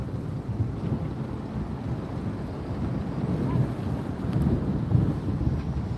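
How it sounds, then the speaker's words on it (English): Strong crosswind gusting across the open apron at Las Vegas Harry Reid International Airport, a steady low roaring rush buffeting the microphone, swelling slightly toward the end with no talk over it. "We have all kinds of winds, as you can see and hear."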